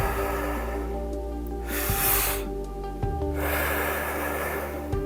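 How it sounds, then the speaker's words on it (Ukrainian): Deep, slow breaths drawn in and pushed out during a guided breathing exercise, a few long airy inhale-exhale cycles close to the microphone, with no talking. "Вдих, видих. Вдих, видих."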